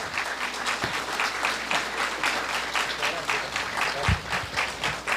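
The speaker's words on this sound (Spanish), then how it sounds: "Fuerte voto de aplausos, por favor" Sustained applause from the audience at the closing ceremony of an international history congress after a musical performance, steady dense clapping filling the whole stretch with a couple of low thumps.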